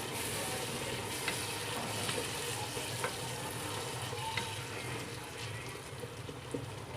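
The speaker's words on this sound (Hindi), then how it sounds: "तीन से 4 मिनट हो चुके हैं हमें भूनते हुए।" Spiced masala for mutton biryani sizzles and fries in a pan, a steady close crackling hiss with small pops and occasional stirring scrapes, and no voices.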